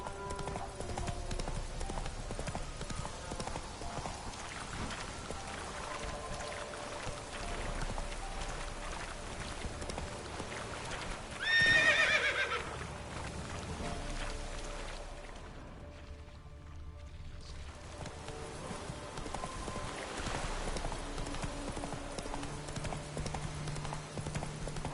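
Horse hooves clip-clop steadily at a gallop in The Witcher 3 video game, a continuous rhythmic pounding with a brief louder burst midway, set against ambient wind and faint rain-like background.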